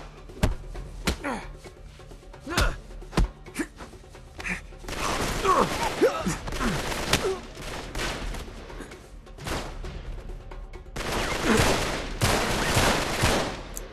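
Gunfire in the video game Uncharted 3, with scattered single shots and then dense automatic bursts and fusillades, loud and punchy with short pauses and a few shouted voices in between.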